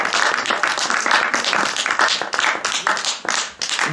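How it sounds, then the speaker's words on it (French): An audience claps after a documentary screening at a film-and-debate event, a lively burst of many hands with uneven swells and slight dips, fading a little toward the end. "On peut applaudir Maxime pour ce gros boulot"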